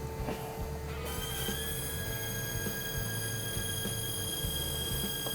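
Fine-thread fuel injectors on a Mercedes W463 300GE spray during a one-minute flow test after a fuel distributor repair, giving a steady, thin, high-pitched hiss and whine with faint mechanical ticking that runs unbroken throughout.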